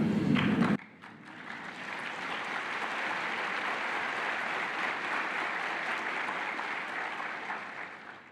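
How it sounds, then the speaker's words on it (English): Audience applause in a large convention hall at a Jehovah's Witnesses annual meeting, a steady, even wash of clapping after a short louder opening, sustained and fairly distant. "And after an awkward silence, then they started to clap."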